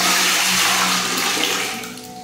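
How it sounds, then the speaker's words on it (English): A toilet aboard a sailboat is flushed by pouring water from a container. The rush of water is loud and close, then trails off as it drains. "flush the toilet"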